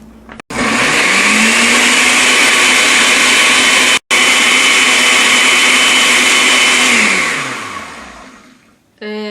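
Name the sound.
blender blending cashews and water at high speed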